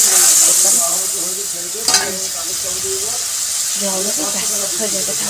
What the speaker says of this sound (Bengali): এবার মাছের মশলাটা করবো আর এখানটায় একটু ভেজে ভেজে করবো